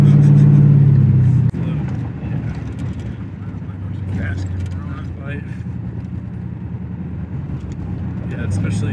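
Ford Mustangs cruise along a winding mountain road, a loud steady engine drone heard from inside the car, with people talking over it.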